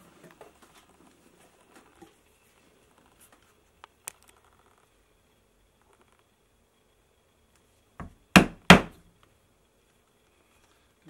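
A metal hole punch is struck through leather to make rivet holes, two sharp, close hammer knocks in quick succession after a long near-silent stretch with faint handling sounds.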